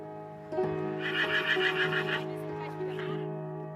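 A horse lets out a loud, close whinny during a slow walk ride, the call rising and wavering for a few seconds over a steady background hum.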